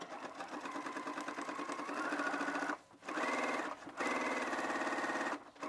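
Sewing machine running gathering stitches along the top edge of a dress skirt, a steady close whir broken by two short pauses as the row progresses.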